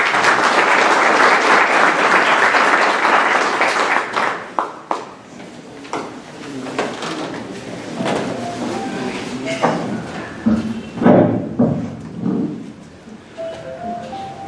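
Applause from an audience at a book presentation: full, dense clapping for about four seconds, then thinning into scattered claps while a voice speaks over the room.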